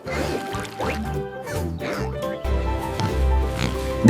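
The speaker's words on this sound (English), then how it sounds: "This is a pig." A pig grunts and oinks in short, repeated bursts over bouncy children's music, with a deeper, louder run of grunts toward the end.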